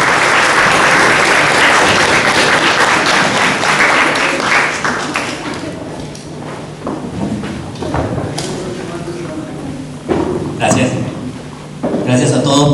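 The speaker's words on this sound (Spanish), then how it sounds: "Voy a dar y voy a invitar un fuerte aplauso al director y responsable de este grupo, al señor Makoto Yagi." A loud round of audience applause at a twentieth-anniversary event for the Japanese-Mexican group Grupo Kasoku. Heavy clapping fills the first half, then thins out into scattered claps and thumps, with voices talking underneath as it fades.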